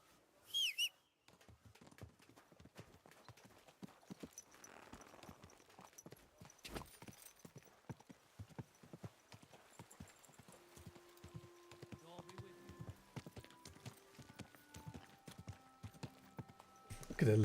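Steady clip-clop of an armored horse's hooves at a walking pace runs throughout in the video game Kingdom Come: Deliverance 2, moderately close, with occasional game music tones and brief background sounds.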